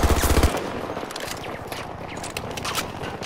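Weapon fire in the shooter game Battlefield 2042: a fast rattling burst up front, then scattered shots, scrapes and movement noises continuing loudly in the mix.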